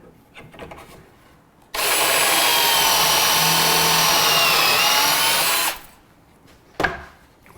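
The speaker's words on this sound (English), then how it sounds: "we're just going to punch a screw hole through here" A power drill bores an angled screw hole through wood with a pocket-hole jig, a single loud, steady whine lasting about four seconds, with quiet handling noises before and after and no talking.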